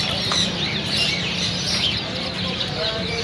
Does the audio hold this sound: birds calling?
yes